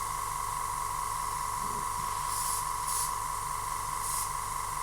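A 0.5mm airbrush sprays paint onto a 1:72 scale model, giving a steady, close hiss that runs continuously, with a few brief louder bursts toward the end.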